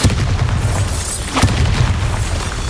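A Bombarda spell explodes in the Hogwarts Legacy video game, producing a loud, dense, rumbling blast with a crackling burst near the middle that stays continuous for the whole stretch.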